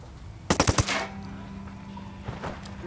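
Rapid burst of sniper gunfire in the tactical shooter video game Ghost Recon Wildlands, about five sharp cracks in quick succession followed by a fading tail and a fainter shot near the end.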